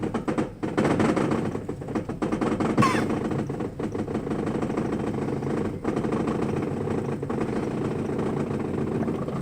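A 22R-E engine with running problems, just restarted after stalling, runs with a steady, rough, rumbling drone that fills the whole stretch, broken only by a few brief dips.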